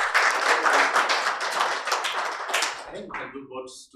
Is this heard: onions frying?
no